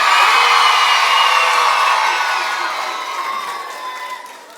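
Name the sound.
school children cheering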